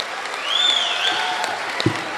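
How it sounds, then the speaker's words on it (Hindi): An audience at an Eid Milan mushaira in Lucknow's Gandhi Bhawan claps at moderate volume, a steady spread of hands over two seconds with a whistling tone over it and a sharp knock near the end. "इस महफिल में बैठा हुआ एक एक शख्स तालियां बजाकर बताए"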